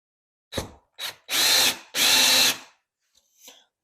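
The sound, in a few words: power drill driving a screw into drywall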